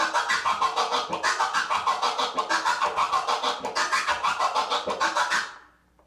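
A DJ performs a transformer scratch on a turntable, a record sound chopped into a fast, even stream of stuttering pulses for about five seconds before stopping abruptly, loud and alone.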